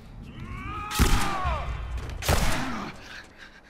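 Gunfire in The Last of Us Remastered, during a fight at a university: two loud, sharp shots about a second apart, close by, over quiet game ambience.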